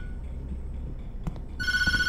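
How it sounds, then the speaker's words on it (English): Telephone starts ringing in a creepy video game: a quiet low rumble and a couple of soft clicks, then a sudden electronic trill rings out loud near the end. "Answer the phone."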